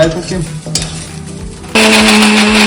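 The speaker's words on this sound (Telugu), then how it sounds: "ఇప్పుడు ఈ మిర్చిని మనం జార్లో వేసుకొని మిక్సీ పట్టేస్తాం" A kitchen mixer grinder jar blending green chillies for a green chicken pulao paste, first a lower whirring, then an abrupt switch to a loud, steady high-speed grinding roar.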